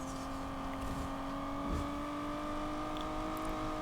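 An Aston Martin Vulcan supercar engine holds a steady high-pitched drone while drifting through a turn in Need for Speed Unbound, loud and sustained with little change in pitch.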